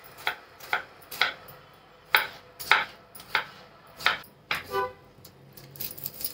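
A knife chopping onion and tomato on a cutting board, about a dozen crisp, uneven taps at close range with short pauses between strokes.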